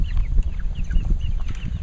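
Chickens in a mobile chicken run cluck and chirp softly in short overlapping calls over a low rumbling background, close by and without speech.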